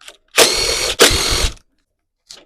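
A ratchet wrench turning 10mm bolts on a Honda lawn mower carburetor, two loud, close bursts of rapid clicking, each about half a second long, with a brief gap between them and silence after.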